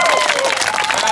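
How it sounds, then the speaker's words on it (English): Audience applause at a GAA club gathering, a brief, loud burst of dense clapping from a crowd with a faint voice underneath. "So give him a round of applause there for coming out here today."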